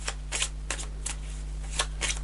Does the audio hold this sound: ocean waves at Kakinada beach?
no